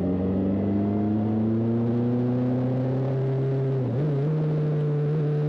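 A Honda CB 1300 Super Four motorcycle being ridden, its large inline-four engine droning loud and close as the pitch climbs steadily through a gear, then a quick dip and recovery at the shift.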